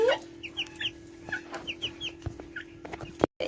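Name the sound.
tiger chickens clucking on a farm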